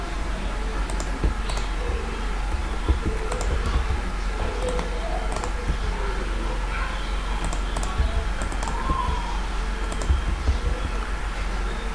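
Computer keyboard shortcuts tapped during a 3D modeling session, a steady run of light clicks and key taps over a low background hum, no voices.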